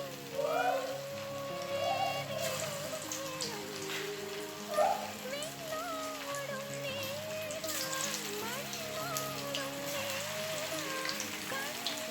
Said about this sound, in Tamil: செம்மையாக பொரியுது